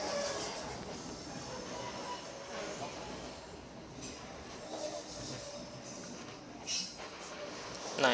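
A passenger train rumbles past at steady volume, a broad continuous rolling noise with faint squeals and clatter, ending in a slightly louder swell.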